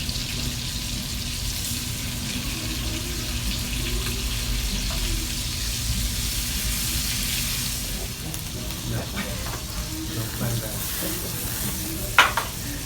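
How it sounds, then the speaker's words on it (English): Brandy reducing in a hot pan for a steak sauce with shallots, giving a steady broad sizzle and bubbling over a low hum, with a few stirring scrapes and a sharp clink near the end. "So you let reduce, cook the brandy"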